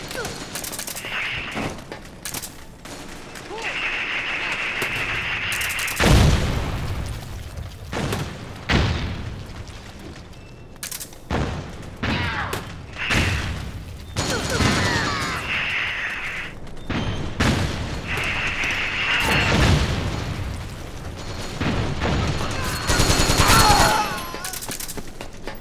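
Repeated gunfire in a shooter video game, with volleys of shots and booming blasts scattered across a busy, noisy battle soundscape, some bursts louder and closer than others.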